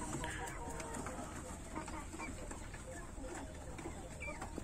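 Kadaknath chickens cluck and call continuously on a farm, faint and somewhat distant, over a steady background hiss with scattered bird sounds.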